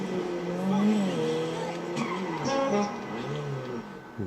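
A truck drives in GTA 5 Online with a revving engine and squealing tyres, while someone talks over the game audio throughout.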